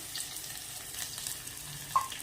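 Finely chopped onion sautés in hot oil with cumin for a Maharashtrian pithla, making a soft, steady sizzle up close, with a faint clink near the end and no voices.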